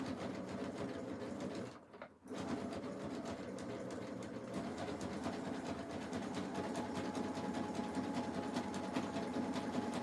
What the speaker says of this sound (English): And I'm sewing a wide zigzag.